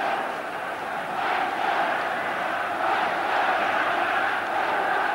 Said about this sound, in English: Crowd raising the volume.